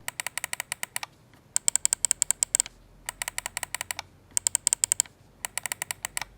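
Rapid bursts of sharp plastic clicking from a Razer Cobra mouse's stiff buttons, several quick presses in a row, separated by brief pauses, close and crisp with no voices.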